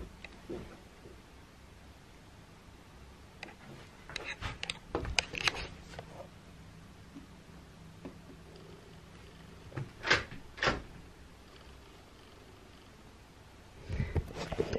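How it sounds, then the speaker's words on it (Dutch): A door is moved several times, giving scattered knocks and thuds with longer quiet gaps between them, near and fairly faint, with no one talking. "Ik beweeg één keer met de deur"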